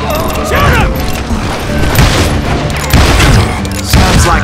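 Gunfire in Call of Juarez: Gunslinger, a loud western shootout with repeated sharp shots and booming impacts clustered in bursts, ricochet-like whines between them, over a dense ongoing action soundscape.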